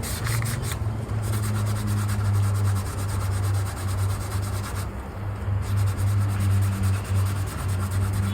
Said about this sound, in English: we're not pressing hard on anything, just letting sandpaper do its job